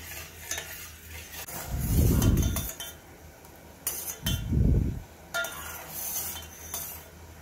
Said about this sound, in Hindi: और इसे चलाते रहना है, कंटिन्यूसली हमें चलाना है और स्लो फ्लेम पे पकाना है।